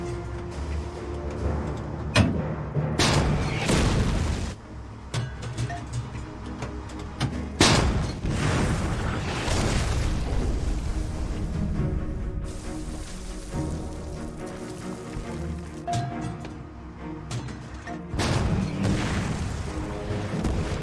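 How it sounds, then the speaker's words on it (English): An M10 tank destroyer fires round after round at a fortified gate, producing heavy booming blasts that roll and rumble continuously, with big thuds standing out every few seconds. "Dallas orders an M10 tank destroyer to fire 50 rounds at the entrance"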